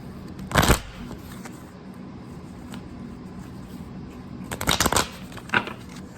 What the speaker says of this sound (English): I'm not the best at shuffling, so don't judge me.